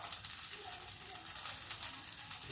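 A salmon steak sizzling and crackling in a hot pan, a steady dense frying hiss, close up and continuous.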